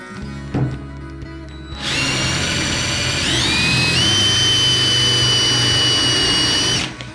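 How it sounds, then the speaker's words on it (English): A power drill with a Forstner bit spins up and bores steadily into hardwood, bogging down with a strained, high whine, loud and close, then winds down. "the Forster bit sort of gets bogged down in that hardwood"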